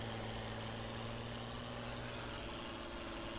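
A tractor engine in Farming Simulator 19 drones steadily at a low idle, a continuous even hum with no talk over it.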